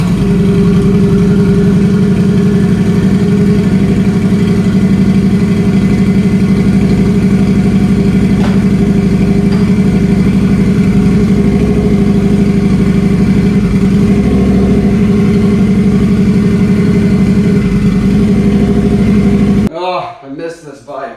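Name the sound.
turbocharged Harley-Davidson V-Rod motorcycle engine running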